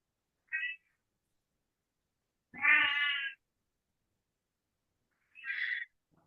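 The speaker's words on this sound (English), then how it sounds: "And the cat is saying," A cat meows three separate times, a short call, then a longer drawn-out meow, then another short one, close and clear against silence.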